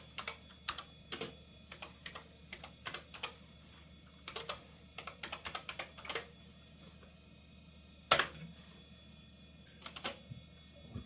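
Typing on a computer keyboard at a Windows 10 system, with irregular bursts of close, crisp key clicks and one louder thump near the end, alone in a quiet room.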